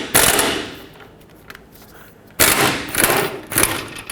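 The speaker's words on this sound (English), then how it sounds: "So I'm going to do this one with my air gun" A pneumatic air impact wrench removes an 18mm bracket bolt from the wheel hub mounting hardware of a Chevrolet Express 3500 van, firing two loud, close rattling hammer bursts separated by a pause.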